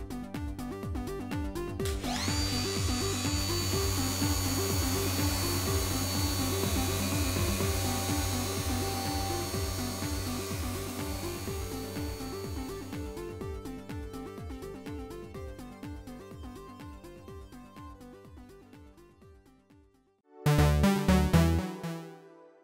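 Wet hand-sanding of a scratched, yellowed plastic car headlight lens with 500 grit sandpaper, a steady rhythmic back-and-forth rubbing that stays close and loud for about twenty seconds before a brief heavier scrubbing burst at the end.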